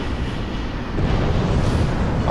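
A bomb blast in the aircraft shooter Squadron 1945 lands as a loud, dense low rumble that swells about a second in and rolls on as a sustained roar, with no voices over it.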